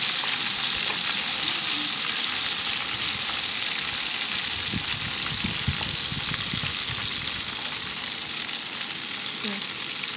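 Tofu skin deep-fries in oil over high heat with a dense, steady crackling sizzle, a constant bright hiss and scattered pops that carry on for the whole stretch without speech.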